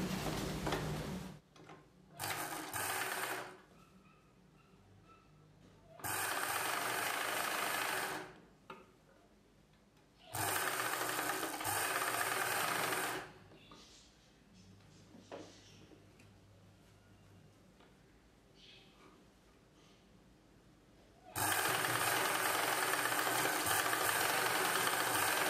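A sewing machine stitching a piece of a blouse collar runs in several loud close bursts of a few seconds each, separated by quieter pauses with faint handling noises, and no one talks.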